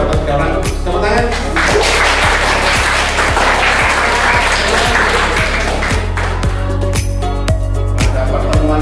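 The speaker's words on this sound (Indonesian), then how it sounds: "Tepuk tangan." Students in a classroom applaud during a short-story writing lesson, loud and dense clapping over a steady rhythmic beat, with the crowd noise thinning toward the end.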